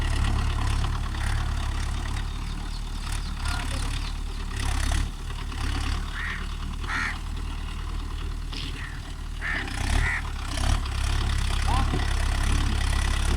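A Mahindra Yuvo Tech Plus 585 4WD tractor engine running on a farm, a loud, steady low diesel rumble close by, with faint voices and scattered clanks over the top.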